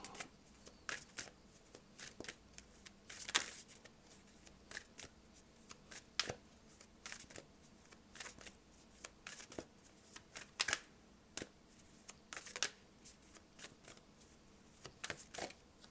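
Tarot cards shuffled and drawn at close range: a run of quick crisp riffling and slapping bursts, irregular and faint, no voices heard.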